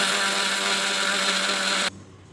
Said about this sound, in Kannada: ಕರಿಬೇವು, ಬೆಳ್ಳುಳ್ಳಿ, ಕೊತ್ತಂಬರಿ, ಸ್ವಲ್ಪ ಜೀರಿಗೆ ಇಷ್ಟನ್ನು ಹಾಕೊಂಡು ಮಿಕ್ಸಿ ಮಾಡಿ